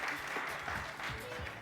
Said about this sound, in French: Merci de faire des applaudissements pour cette dame